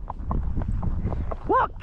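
Horse hooves clip-clop at a walk on a trail with tall grass on both sides, steady rhythmic footfalls close by under a rider's spoken commands.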